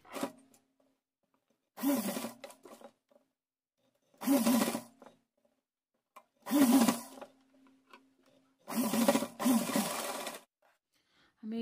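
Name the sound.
sewing machine stitching a cotton dress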